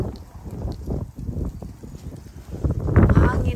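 Strong gusty wind during a Texas ice storm buffets the microphone with loud low rumbling, swelling toward the end, while a person talks close by.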